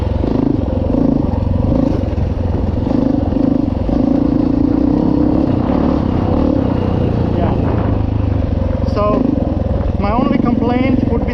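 A Honda XR400R or Suzuki DR350 dirt bike engine drones steadily in third gear while riding across a yard, loud and close throughout, with clattering from the machine.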